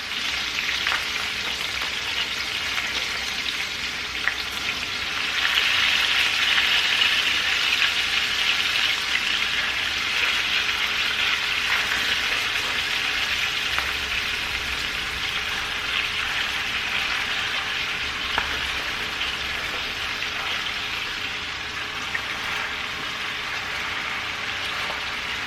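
Cabbage fries in a pan with a steady, loud sizzle that holds for the whole stretch, a continuous hiss broken by a few faint clicks and no talking.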